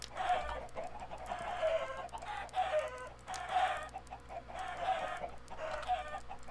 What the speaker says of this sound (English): I gotta cut down on this goddamn chicken noise.